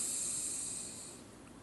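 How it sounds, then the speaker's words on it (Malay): A long, soft airy inhale, breathy and close, gradually fading over a second or so with no voice. "Tarik nafas."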